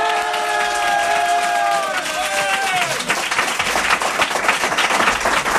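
A television studio audience applauding a singer, loud sustained clapping and crowd cheering, with brief musical tones at the start fading under the swelling applause.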